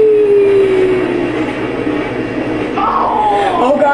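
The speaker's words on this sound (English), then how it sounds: "Oh gosh, that's a train!" A train rolls past in the MX vs ATV motocross video game, a loud, close rumbling roar with a rising metallic squeal near the end, heard without speech.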